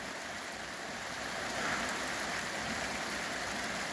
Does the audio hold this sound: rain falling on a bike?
yes